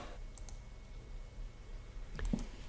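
A computer mouse clicking on the File menu in PowerPoint: a few faint, quick clicks, mostly near the end, over a quiet room hum.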